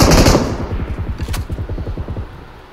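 Rapid automatic gunfire in the mobile battle royale game BGMI, a loud close burst of evenly spaced shots that fades out over about two seconds.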